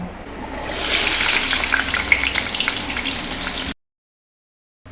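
Onion and ginger dropped into hot oil in a pan for chilli chutney burst into a loud, dense, steady frying sizzle that swells after the first second, holds close and constant, then cuts off abruptly, with no voices.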